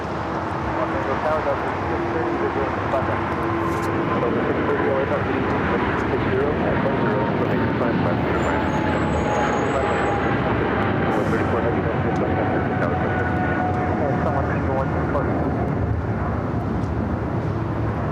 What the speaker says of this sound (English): That was a flight heading to London Heathrow